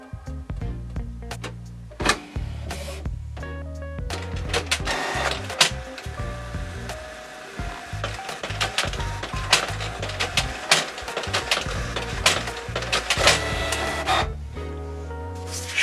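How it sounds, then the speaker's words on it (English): A Canon PIXMA TS300-series inkjet printer runs its internal roller cleaning cycle, giving close mechanical whirring, clicking and motor hums in stop-start bursts for about sixteen seconds. "Longer press will clean the roller inside the printer."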